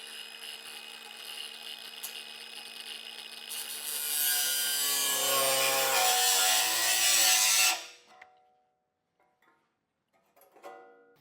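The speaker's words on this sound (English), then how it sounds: "use my angle grinder with a cut-off wheel on it and just cut" Angle grinder with a cut-off wheel cutting steel during a Roadmaster crossbar-style base plate install on a 2017 Jeep, a steady close whine that swells into a loud harsh cut for a few seconds, then stops abruptly, leaving near silence and faint clicks.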